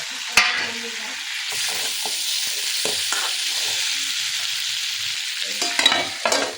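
Drumstick pieces, potato and pumpkin bori fry in a pan, giving a steady close sizzle with scraping stir strokes and clinks throughout and no talk.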